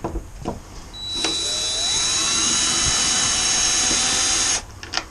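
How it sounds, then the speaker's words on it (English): A 20-volt cordless electric screwdriver backs Torx screws out of a BMW R1250RT motorcycle windscreen, with one sustained whirring whine running a few seconds at close range between short handling clicks. "20 volt max electric screwdriver to remove these 4 torque screws"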